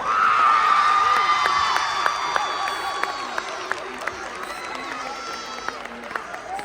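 An audience at a high school awards event clapping and cheering, a burst of whoops and shouts that fades into scattered claps and murmuring crowd noise.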